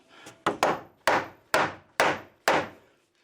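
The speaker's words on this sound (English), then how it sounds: "Less thinking, more smacking with a hammer" A hammer smacks wood framing under an old house with six sharp, solid whacks at an uneven pace, each ringing briefly before the next, close and with no talk.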